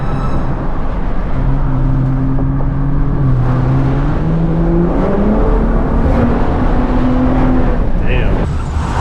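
A Toyota Tundra pickup truck in sport mode with its sport exhaust note delivers a loud, constant engine drone from inside the cab, its pitch climbing and settling as it accelerates.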